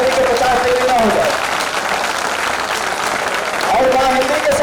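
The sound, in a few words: audience applause, clapping in honour of Mother India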